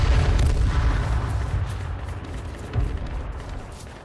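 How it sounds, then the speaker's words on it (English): An airstrike in the H1Z1 battle royale game lands as heavy, booming explosions: a deep rumbling blast at the start that slowly fades, then a second thud a moment later. "Called in a fucking airstrike, bro."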